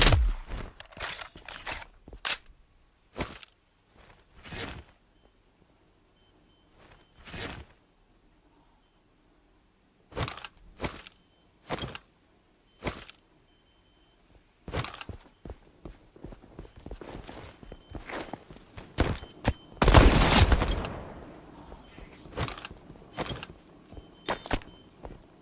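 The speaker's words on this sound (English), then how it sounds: "Boss shooting at me while I'm trying to fight that other guy." A boss firing on the player in Witchfire, with a string of sharp, separate shots and short bursts spread irregularly through the clip, and one louder cluster near the end.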